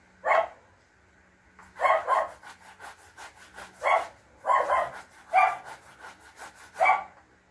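A dog barks repeatedly in regular bursts, about six loud barks spaced a second or so apart, fairly close, with faint background noise between.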